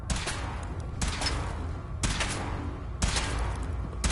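Weapon fire in the video game Fallout 4: heavy, booming bursts arrive about once per second over a dense, constant rumble. They sound close and loud.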